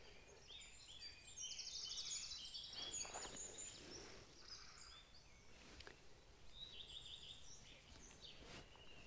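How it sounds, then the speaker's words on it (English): A male redstart sings from the trees overhead during spring migration, faint high warbling phrases repeated over quiet outdoor background noise. "So I've got a red start male right above me in the trees, singing away."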